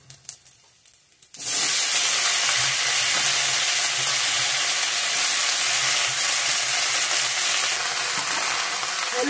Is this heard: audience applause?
no